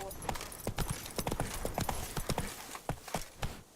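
A horse gallops in The Witcher video game, its hooves clip-clopping in a quick, steady rhythm that is moderately close and fairly quiet, with no talk over it.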